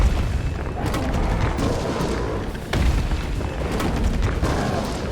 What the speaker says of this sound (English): We got a grenade launcher.